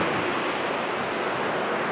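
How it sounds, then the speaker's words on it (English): Ocean waves breaking on a Welsh beach below cliffs and rocks, a steady loud roar of surf filling the whole stretch with no pause between breakers. "Why is it when I say that the waves get bigger?"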